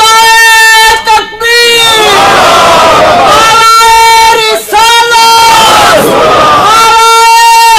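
A large crowd at a religious gathering shouts slogans in unison, loud, near, and rhythmic, with a lead voice calling and the crowd answering in repeated waves separated by brief pauses.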